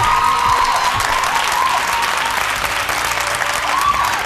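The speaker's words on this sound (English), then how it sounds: "A round of applause to debate 1" A crowd applauds debaters at a televised leadership debate, a thick, even roar of clapping that holds at full strength from start to finish with no pause.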